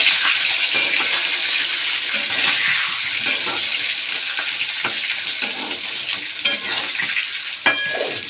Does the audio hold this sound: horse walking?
no